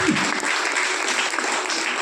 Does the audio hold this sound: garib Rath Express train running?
no